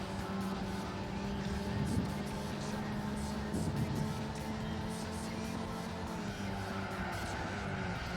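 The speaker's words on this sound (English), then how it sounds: "What is the engine sound for this car?" A steady engine hum with tires squealing and skidding in brief bursts, fairly faint and continuous, from a Lotus Europa in Gran Turismo 4.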